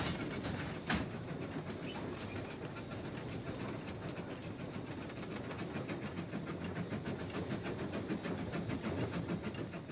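A narrow gauge train runs along a Welsh railway line with a steady rolling rumble, rhythmic wheel clatter and a faint hiss of steam, with one sharp clank near the start.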